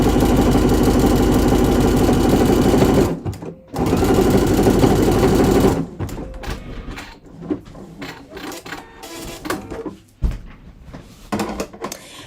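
A sewing machine stitches steadily around a big circular seam for a fashion garment, running loud and continuous for about three seconds, pausing briefly, then running again before stopping into quieter handling clatter and faint movement.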